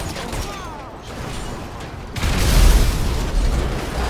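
An explosion in a video game: after a stretch of lower rumbling game noise, a loud, deep blast erupts about halfway through and keeps booming and crackling to the end.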